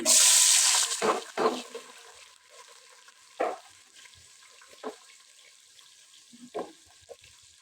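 Chopped onions go into hot oil already seasoned with fenugreek seeds, giving a loud burst of sizzling at first that quickly fades, followed by a few soft scrapes and clatters of stirring in the pan.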